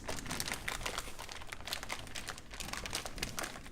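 Wax paper from a Mazda Miata front lip package being crinkled and handled up close, a dense, continuous crackling and rustling.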